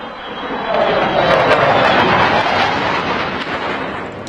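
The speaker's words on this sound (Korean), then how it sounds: "비행기 소리가 막 지나가는데 어, B2 폭격기랑 F35가 이제 한 네대가 이제 함께 어, 그렇게 이제 막 그 상공을 지나갔다고 하더라고요" A B-2 bomber and F-35 jets fly overhead as a group of about four, making a broad, steady roar that swells and lingers for several seconds.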